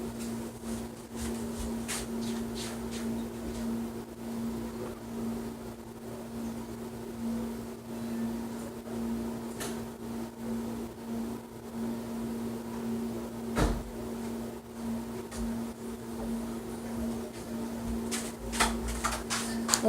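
A microwave oven hums steadily for about thirty seconds while heating homemade slime, a constant low drone with faint clicks and rattles scattered over it.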